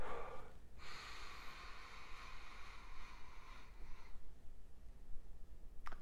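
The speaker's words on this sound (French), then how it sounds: "5 secondes d'inspiration et 5 secondes d'expiration." Slow, deep belly breathing, a long breathy inhale or exhale lasting several seconds and then fading, close and soft with no talking.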